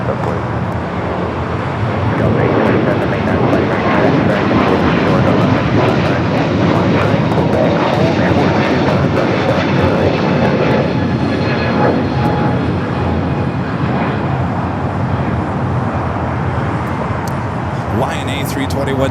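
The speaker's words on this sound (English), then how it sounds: "Now we got that American, I'm sorry, Delta A350 900 heading to Atlanta. Now rolling down at 25 right." Delta Airbus A350-900 airliner rolling down runway 25 right at Los Angeles airport, a loud continuous engine roar sustained throughout, with talk over it.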